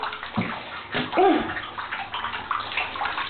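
Water sloshing and gurgling in a spa bathtub within the Webkinz video game, a steady watery wash running continuously under brief voices talking.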